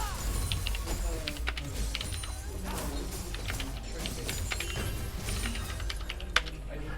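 Rapid clicking on a computer keyboard during a high school League of Legends esports match broadcast, with irregular bursts of keystrokes and voices talking faintly underneath.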